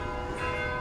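A church bell rings out in a small town square, one sustained ringing tone with a rich spread of overtones, loud and close, with no speech over it.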